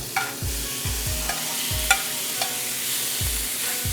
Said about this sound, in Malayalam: ആദ്യം കോക്കനട്ട് ഓയിൽ ഇടാൻ പോവാണ്. അപ്പം നല്ലോണം തവ ചൂടായിട്ടുണ്ട്.